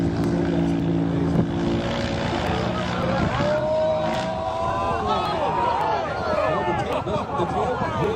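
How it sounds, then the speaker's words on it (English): An Alaskan bush plane's propeller engine drones loudly and steadily, its pitch sweeping as it moves past, with talk over the engine noise. "This is an Alaskan bush plane, known for being able to take off and land in a really short distance."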